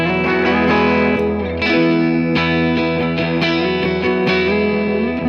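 An ESP Mirage Deluxe electric guitar in Fiesta Red, fitted with a DiMarzio Super Distortion pickup, plays distorted chords and notes as the player switches between bridge and neck pickups, loud and steady with no talking.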